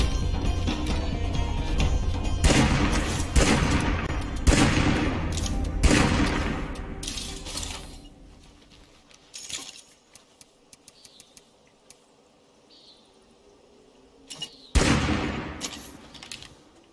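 Gunfire from a firefight in the zombie survival game State of Decay 2, with dense rapid bursts of shots over the first eight seconds, then scattered sharp single cracks and one loud late burst, with faint voices at times.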